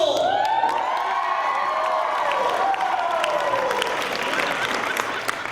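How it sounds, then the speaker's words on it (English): Talent show audience applauding and cheering loudly, with whoops and high shouts gliding over dense clapping that holds steady throughout. "By a round of applause, how do you feel?"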